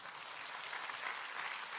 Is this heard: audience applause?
yes